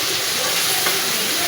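Bitter gourd and potato sizzle in a frying pan as they finish cooking, a steady broadband crackle and hiss that stays close and even throughout with no pauses.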